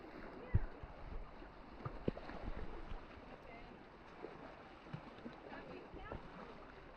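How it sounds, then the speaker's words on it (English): Boats moving on water nearby at a beach in Piran, Slovenia, a steady wash of water and engine rumble with occasional knocks, with talk faintly mixed in. "Lots of boats passing by as well"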